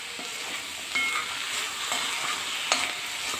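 A spatula stirs steamed radish and carrot curry with onions and salt in a frying pan, giving a steady soft sizzle broken by a few distinct scraping strokes.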